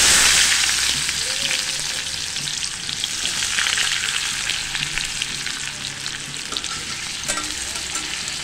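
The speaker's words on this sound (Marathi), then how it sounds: "आपण कांदा लाल होईपर्यंत भाजून घेणार आहे" Chopped onion fries in hot oil for a prawn masala, a steady loud broadband sizzle throughout, with occasional stirring scrapes and no voices.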